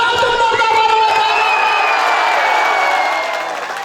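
A live stage show audience roars with cheering and shouts, a dense loud crowd wash with whistles and whoops that stays strong, then eases a little near the end.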